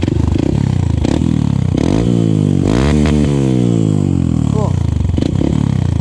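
Honda CRF150 fitted with a GP7 Tekken exhaust revving in repeated throttle blips, each burst rising sharply in pitch and falling away into a deep, bassy idle, heard close with brief speech alongside.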